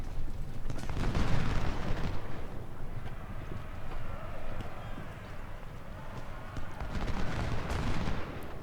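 Musket volleys crackle across a Civil War battlefield in the strategy game Ultimate General: Civil War, a dense, continuous rattle of distant gunfire with louder bursts near the start and end.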